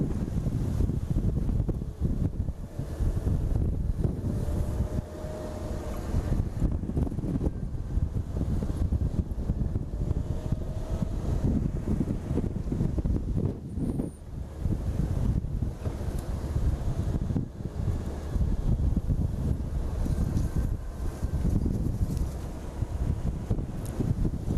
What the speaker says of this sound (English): we have to contend with the wind